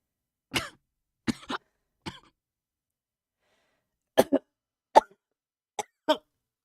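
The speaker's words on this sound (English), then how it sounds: "There were times when I heard Okita hacking his lungs up as he coughed" A character in the Hakuoki Edo Blossoms video game coughs in short, harsh, close bursts, some single and some paired, separated by silent gaps, with no talking.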